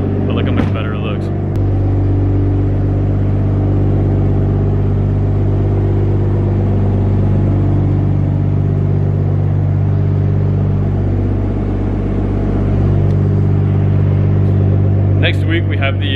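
A car engine idles steadily right beside the recorder, a loud continuous low rumble lasting throughout, with brief clicks and a faint voice near the start and end.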